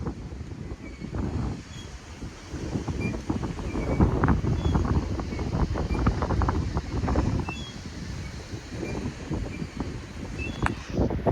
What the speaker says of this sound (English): we're going to see a test to see how strong the wind is